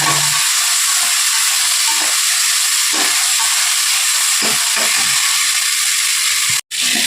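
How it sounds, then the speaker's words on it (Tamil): Ginger garlic paste sautéing in a pan for ghee rice, giving a steady close hiss and sizzle with brief gaps that suggest stirring, running almost unbroken for several seconds before one sudden cut. "இஞ்சி பூண்டு பேஸ்ட்டு போட்டு நல்லா கொஞ்சம் நேரம் வதக்கிக்கணும்"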